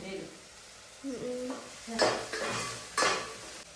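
Chopped okra is tempered and stirred in hot oil in a home kitchen: soft sizzling with a few sharp scrapes and clinks of a spoon against the pan, close and fairly quiet.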